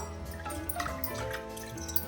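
Water is poured over washed lentils in a pot for Kerala sambar, giving soft trickling and dripping splashes that come and go close by, with no talking.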